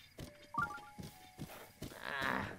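Horse in The Legend of Zelda: Breath of the Wild, a close snorting, whinnying neigh among thumping hoof clops and breathy blows, followed by a longer louder snort near the end.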